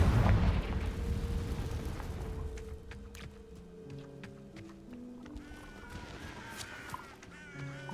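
A Confringo fire spell is cast in the Hogwarts Legacy video game, with a loud burst of layered whooshing noise in the first two seconds. It fades into a quieter tail of ringing, sustained magical tones.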